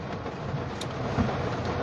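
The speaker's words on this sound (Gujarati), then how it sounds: "હળદમાં વરસાદ ઓછો ને વીજળીના કડાકા ભડાકા વધારે થઈ રહ્યા છે" Rain falling during a thunderstorm in Halvad, with a steady broad wash of downpour and a low rumble of thunder swelling near the end.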